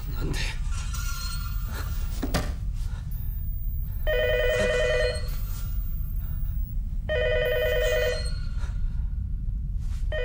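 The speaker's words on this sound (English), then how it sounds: "unless your phone starts ringing right about now" Telephone ringing from the film Ringu, two distinct electronic ring bursts a few seconds apart, moderately loud over a low rumbling background with some scattered clicks.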